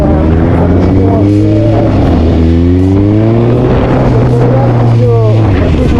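A motorcycle engine revs loudly and close, its pitch climbing and falling through repeated throttle blips, with wind buffeting throughout and someone talking over it.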